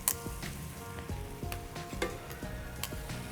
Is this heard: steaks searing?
yes